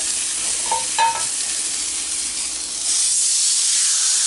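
Butterflied chicken sizzles in a pan just after being turned, a close, steady hiss with a couple of brief clinks early on and the frying growing brighter and louder toward the end.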